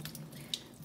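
A newly installed kitchen faucet runs in a steady, soft stream into the sink, a low continuous wash with one brief splash or drip standing out midway.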